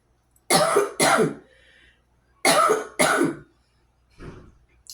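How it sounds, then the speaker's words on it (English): Several harsh coughs in two close pairs, then a softer throat-clearing rasp, close to the microphone with no talking. "I had a cough"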